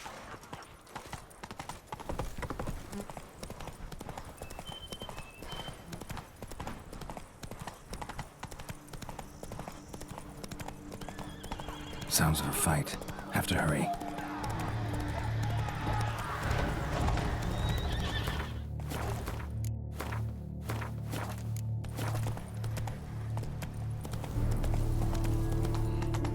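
Horse hooves clip-clopping at a run through The Witcher 3: Blood and Wine, with whinnies and neighs, steady and close under game music and brief spoken lines.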